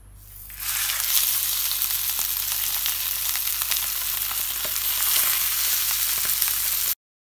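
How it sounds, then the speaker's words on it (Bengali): Hilsa fish pieces frying in mustard oil give a steady, close, loud sizzle that holds without a break, with faint stirring or spatula scrapes mixed in. "এখানে প্রথমে সরিষার তেল দিয়ে মাছগুলো হালকা করে ভেজে নেওয়া হবে।"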